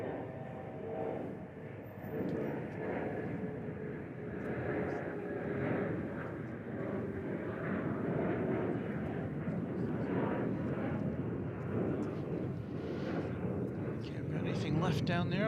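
A CRJ 701ER jet airliner departs at DFW Airport, a steady, broad engine roar that holds loud and continuous, with slight swelling as it climbs away.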